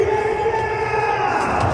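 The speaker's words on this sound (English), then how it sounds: "Thousands still here, in fact." Thousands of spectators at a cricket stadium keep up a dense, steady roar of cheering, broad crowd noise with no clear breaks.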